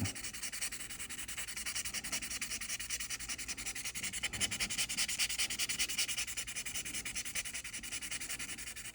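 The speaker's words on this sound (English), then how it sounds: "we're gonna sand and we're gonna work this in all around the shape of the nose" Steady sanding of the nose on a model race car, a continuous dry rasping scrape that runs close and even for the whole stretch with small rhythmic strokes and no talk.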